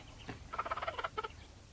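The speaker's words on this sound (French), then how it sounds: "Les poulets." Chickens on a farm make a short run of quick, rhythmic clucking and gobbling calls, fairly faint and alone, lasting about a second.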